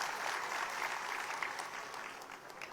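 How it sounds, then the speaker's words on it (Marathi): Audience applause for Dada at a political rally, a broad, sustained roar of many hands clapping at a distance, steady and unbroken. "दादांसाठी एकदा जोरदार टाळ्या होऊ द्या"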